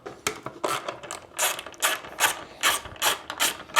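A ratchet spins out the bolts holding the wing on a carbon-bodied Kawasaki Ninja H2R, with a steady run of loud, close, rapid ratcheting bursts in an even back-and-forth rhythm.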